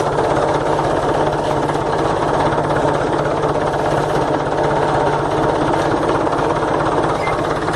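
A tractor scraping out a ditch gives a loud, steady engine drone, close up, mixed with continuous rough grinding and rattling, with no talk.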